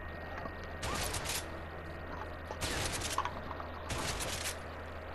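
Bursts of rapid gunfire at a shooting range in the game A Way Out, three loud fusillades of a few seconds each separated by short pauses, close and harsh.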